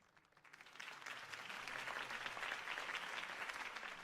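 Applause in Telltale's Batman video game swells in quickly and keeps going, a dense steady clatter of many hands clapping at a distance.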